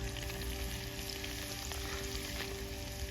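Curry leaves crackle and sizzle in hot oil in a pan over a campfire, a dense, even frying hiss that holds close and steady with no talking.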